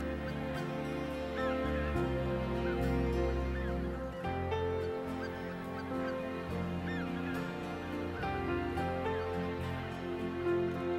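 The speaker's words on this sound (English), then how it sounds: "The greater white-fronted geese are almost ready to leave for the north." A flock of greater white-fronted geese at Lake Miyajima in Hokkaido, Japan, honks continuously in late April, many overlapping calls layered into a loud, dense chorus.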